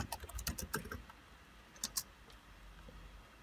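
Computer keyboard keys typed in a quick patter of clicks, a dense burst early then a couple of isolated taps, close and fairly quiet while an Apple ID password is entered.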